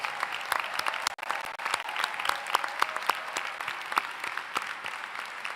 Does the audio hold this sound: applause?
yes